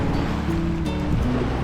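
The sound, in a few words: lake waves sounding like the sea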